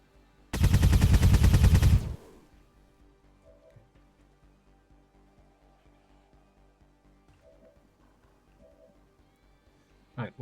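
A single burst of automatic gunfire from XCOM 2 Long War of the Chosen rattles loudly for about a second and a half, then quiet game ambience with faint beeps follows and a sharp sound lands at the very end.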